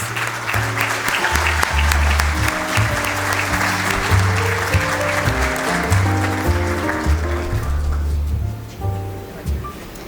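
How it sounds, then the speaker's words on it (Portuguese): Sustained applause from an audience at an award ceremony opening a citrus industry expo, loud steady clapping with music playing underneath, gradually thinning toward the end. "Uma salva de palmas"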